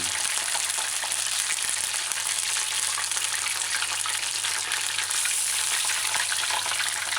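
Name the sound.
sesame chicken pieces frying in pan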